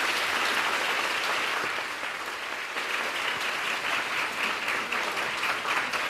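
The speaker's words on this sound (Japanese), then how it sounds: "皆さん盛大な拍手 をよろしくお願いします。" An audience at a seminar event gives a big round of applause, a continuous, full crowd clapping that stays strong and even from start to finish.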